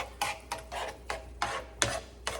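A shrimp and cauliflower grits mixture with sour cream and cheese being stirred in a pot off the heat: seven or eight short scraping strokes at a steady pace, close but soft, with no talk.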